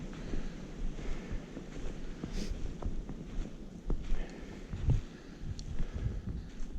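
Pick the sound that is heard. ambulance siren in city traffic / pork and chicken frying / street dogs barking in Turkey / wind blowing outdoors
wind blowing outdoors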